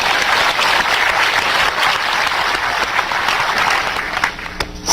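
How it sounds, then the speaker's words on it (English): An audience claps in a loud, sustained burst of applause that runs evenly before tapering off near the end. "Let's give him another round of applause."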